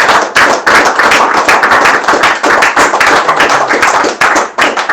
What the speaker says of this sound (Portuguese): E dê um aplauso ao Senhor Jesus.